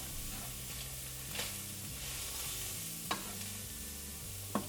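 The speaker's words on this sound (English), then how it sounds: "So when your flour is browned up, you're going to mix in the ground beef with it." Ground beef stirred into a browned flour roux in a pan, a steady low sizzle with a few sharp spoon scrapes against the pan, close and without talk.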